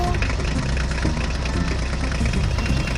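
A mini toy tractor's engine runs in a steady, loud, continuous rumble with no pauses.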